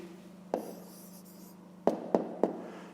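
A pen writes down the answer to a math exercise on paper, with a few sharp taps and short scratching strokes over a low steady hum; no talking.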